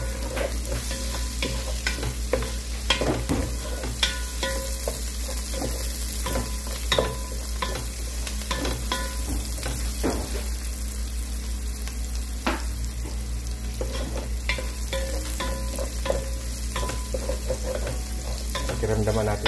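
Chili and garlic stir-fried in a pan for sinigang na bangus, with a steady close sizzle and a run of spatula scrapes and clacks against the pan throughout.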